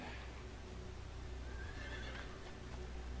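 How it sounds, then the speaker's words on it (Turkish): Horses whinny and neigh in panic as they flee in the LEGO Lord of the Rings video game, a sustained whinny rising over a dense, steady game soundscape with no talk. "Herkes atlar falan huzursuzlanıyor. Korkuyorlar."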